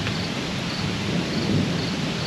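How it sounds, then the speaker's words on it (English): Low rolling thunder rumbles under a steady hiss of heavy rain during a lightning storm on a homestead. "You can hear the thunder though, I'm sure."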